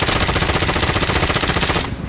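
Loud, rapid automatic gunfire in a shooter video game, a continuous close-range stream of shots hammering steadily for about two seconds before cutting off abruptly.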